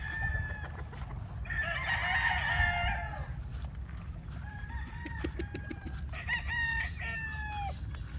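Chickens on a farm, including white broiler chicks, clucking and a rooster crowing close by, with layered bird calls over a steady low hum of farm machinery.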